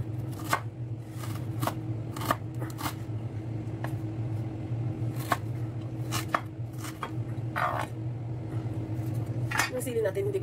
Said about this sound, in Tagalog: So iwain natin ng luya.